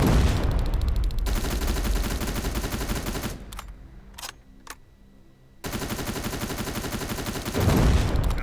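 Sustained automatic gunfire trading with red plasma turrets in the video game Terminator Resistance, loud rapid bursts that drop to a few sharp isolated shots midway, then resume as heavy continuous firing.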